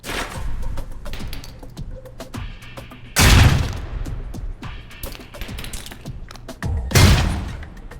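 Grenade explosions in the Alpha Protocol video game: two heavy booms a few seconds apart, separated by sharp clicks and thuds, with no talk.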